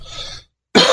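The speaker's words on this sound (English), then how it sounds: "thanks for going through that cough with me" A single harsh cough sounds close to the microphone, a short rough burst of breath that cuts off, followed by a brief pause before another loud throaty exhalation.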